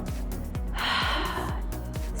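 A person demonstrates a sharp, breathy gasp for air during a public speaking workshop, a single rushing intake heard over steady background noise with regular low thumps.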